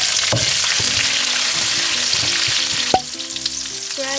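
Tomatoes drop into hot oil in a reheated pot, a loud, close, steady frying hiss with a sharp burst as they land, followed by some stirring clatter.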